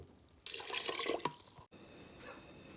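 Water poured from a container onto rice in a pressure cooker, a splashing pour lasting about a second, then a quieter trickle and faint kitchen sounds.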